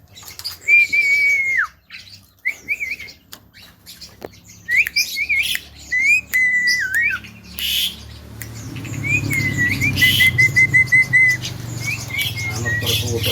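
Buffalo myna (jalak kebo) calling at close range, a run of loud whistled and squawking notes in bursts with short pauses, followed by fluttering wing flaps and a rougher rustling noise.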